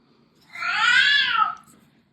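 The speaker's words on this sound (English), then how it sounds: "Does anyone else have an elderly cat? They become very, very talkative." An elderly cat gives one long, drawn-out meow that rises and falls, close and clear over a faint background hum.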